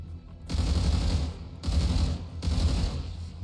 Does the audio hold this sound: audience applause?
no